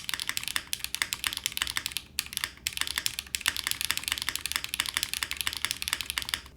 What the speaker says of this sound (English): This is a super soft typing experience